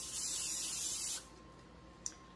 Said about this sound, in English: And I'm just spraying my casserole dish.